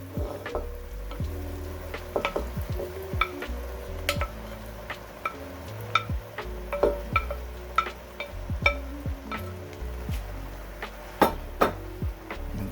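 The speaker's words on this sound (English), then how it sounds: "And give that a stir." Ground beef is stirred into cabbage in a frying pan, with repeated scraping and clicking of a utensil against the pan over a low, soft sizzle.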